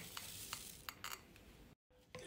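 A spoon stirs a mixture of melted chocolate, oil and pistachio in a bowl, making soft scraping strokes repeated several times in an even rhythm, close and fairly quiet, with a brief dropout near the end.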